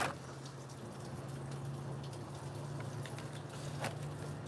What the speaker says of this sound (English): I love the rain. I love how soothing it sounds.